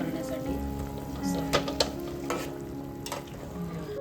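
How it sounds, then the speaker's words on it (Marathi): Pomfret curry cooks in a pan on a gas stove, bubbling and sizzling steadily at moderate volume, with a few sharp clinks of a utensil against the pan. "बघा मित्रांनो मम्मीने गॅसवर आता ठेवलाय पापलेटचा रसा"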